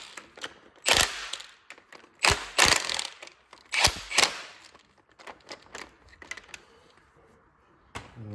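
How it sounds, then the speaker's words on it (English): Spanner tightening hydraulic fittings on an MF 1200 tractor: several sharp metallic clicks and ratcheting clanks in bursts, close and moderately loud, with quieter handling noises between. "just checking with a spanner, make sure they're tight enough, hand tight."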